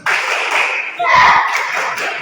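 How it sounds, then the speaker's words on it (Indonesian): Rhythmic group clapping in a classroom, students doing a 'tepuk semangat' spirit clap at the end of a lesson, loud and close, a dense burst of claps lasting a couple of seconds. "Oke, tepuk semangat."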